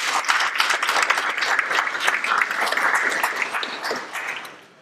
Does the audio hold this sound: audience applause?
yes